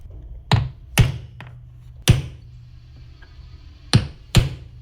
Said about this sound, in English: I'm going to secure it with some nails.